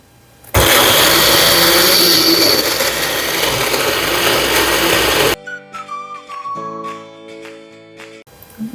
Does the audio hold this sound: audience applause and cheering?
no